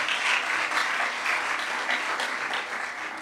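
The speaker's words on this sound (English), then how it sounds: "Give them all a round of applause." Audience at a public speaking competition applauds the student speakers, dense sustained clapping from a crowded hall, loud and continuous with no voices over it.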